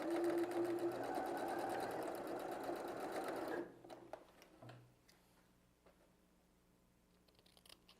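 A sewing machine stitches a small dart on a handmade bag, its close, steady mechanical whir running loud for a few seconds before stopping abruptly, followed by faint handling clicks and quiet rustles.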